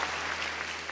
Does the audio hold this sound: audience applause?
yes